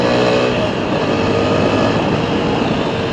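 TVS Apache RTR 160 4V motorcycle engine held at high revs above 6000 RPM, a loud, steady, dense roar with strong wind buffeting throughout, no pauses.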